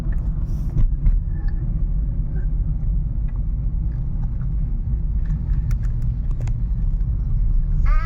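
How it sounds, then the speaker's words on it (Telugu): A truck drives along a road nearby on the way to Srisailam, giving a steady low rumble of engine and tyres throughout with some faint higher sounds, with no talk. "ట్రక్ ఇది ట్రక్ ఉంది చూడు"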